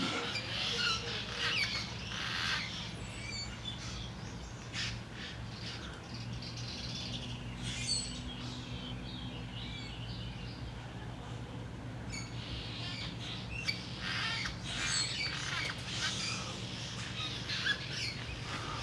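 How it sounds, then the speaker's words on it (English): Faint chirps and squawks of birds inside a campground bathroom ceiling echo in an enclosed space over a steady low hum, scattered irregularly with no talking. "birds hanging out."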